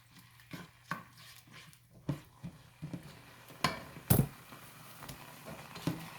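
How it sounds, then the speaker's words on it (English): Rice pilaf ingredients are stirred in a pot with a utensil, making a faint scrape and clink that recurs irregularly every half second or so. One louder knock stands out near the middle. "stir it all in"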